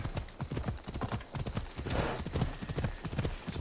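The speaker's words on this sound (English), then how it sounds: "Nope. This is my horse." Horse hooves galloping in Assassin's Creed Odyssey, a fast, steady clip-clop rhythm that stays close and fairly loud throughout, with no talk over it.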